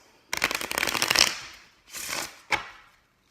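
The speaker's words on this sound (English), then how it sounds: "You're going to take that deck of cards and then you're going to shuffle whatever shuffle your shuffler has." A deck of cards riffle-shuffled: a rapid fluttering burst, then a softer riffle and a short snap as the cards are squared.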